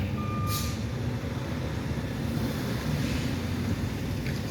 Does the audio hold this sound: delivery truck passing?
yes